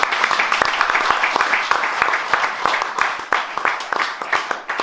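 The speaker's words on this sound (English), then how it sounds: "A big round of applause." An audience at a CD launch show claps loudly and close by, with many distinct hand claps in a busy, uneven patter that lasts the whole stretch.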